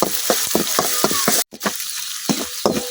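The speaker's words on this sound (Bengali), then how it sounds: "আদা রসুন পেঁয়াজ আমি কিন্তু খুব সুন্দরভাবে ভাজা লইছি।" Ginger, garlic and onion frying in a pot with whole garam masala, a loud constant sizzle close by with rhythmic stirring scrapes of a spatula repeating throughout, briefly interrupted by a sudden cut in the middle.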